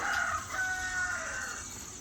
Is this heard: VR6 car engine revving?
no